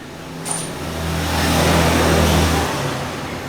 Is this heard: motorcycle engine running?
yes